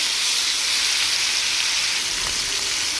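Fish rubbed with turmeric, chili and salt fries in hot oil in a pan, giving a loud, steady sizzle and hiss that runs without a break.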